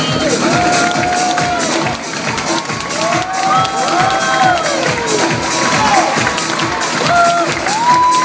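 A circus audience applauds and cheers loudly for a rider's act, with dense clapping, shouts and high whoops from children rising over a driving band beat.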